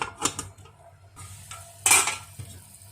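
A lid is set over a pot of chicken adobo cooking with 7-Up, giving a few clanking metal knocks and one louder clatter over a faint background sizzle, with no talk.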